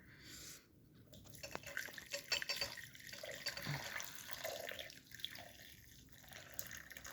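A cup and a half of water pours into a mix of Castile soap and coconut oil for homemade wet wipes. It is a quiet, close trickle and splash with small drips and brief pauses, and no one speaks.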